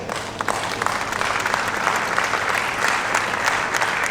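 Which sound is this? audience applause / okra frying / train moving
audience applause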